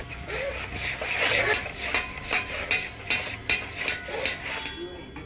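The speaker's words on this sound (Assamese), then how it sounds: "এয়া হাতুৰিৰে কুবাই কুবাই সমান কৰি আছে" A hammer beats a bell metal sheet flat in a small workshop, producing a steady series of sharp metallic clinks about two per second over a low background murmur.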